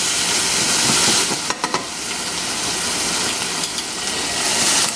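Shrimp and garlic sautéing in a pan, a steady broadband sizzle and hiss lasting throughout, with a few brief clicks of the pan or utensil near the middle.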